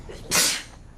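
A single short, sharp sneeze bursts out, a quick breathy hiss in a quiet room.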